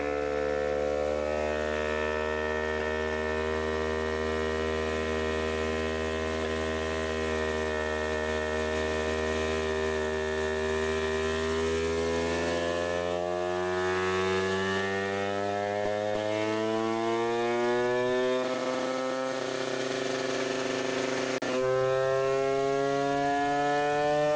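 A 50cc Bidalot 50WR moped engine, freshly refuelled, running steadily and close by, its buzzing tone rising gradually as the revs climb, with no talk over it.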